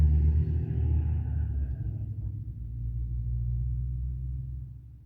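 Steady low road traffic rumble from passing cars, loud and continuous, fading slightly toward the end with no voices.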